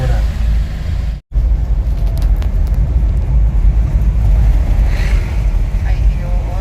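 Road traffic on a rainy street, a loud steady low rumble of cars with a brief dropout near the start, heard from close by inside the flow of vehicles.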